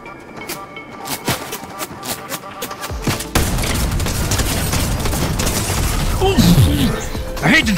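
Drum shotgun fire in Fortnite begins as scattered sharp cracks, then turns into a loud, sustained barrage of blasts and explosions, with someone talking over the fight.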